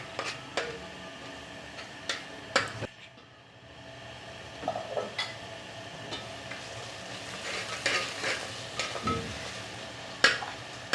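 Turmeric and coarse ground spices stirred into a frying masala for a keema dish, with a steady low sizzle and repeated sharp clinks and scrapes of a spoon against the pan, no voices.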